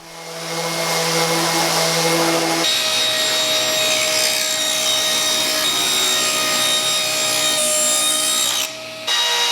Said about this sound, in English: Raise your hand if you love sanding.